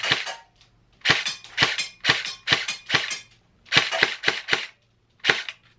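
A Heckler & Koch HK416C airsoft rifle fires, with about a dozen sharp, close snapping shots in quick irregular clusters and short pauses between them, heard alone without talk.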